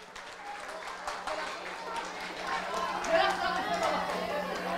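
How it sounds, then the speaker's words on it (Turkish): Applause and crowd chatter at a first birthday party in London, a dense patter of clapping mixed with voices, moderately loud and steady throughout. "Alkışlar görelim."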